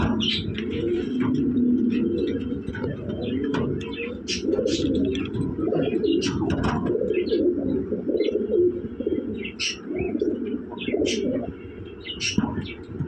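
Large red Lahori pigeons, breeding pairs, coo in low, repeated throaty calls at close range, with scattered chirps and a person talking over them.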